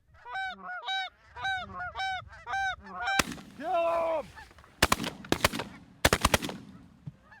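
Geese on a goose hunt give a string of loud, close, rhythmic honks, followed by sharp shotgun blasts mixed with further honking and a few more shots near the end.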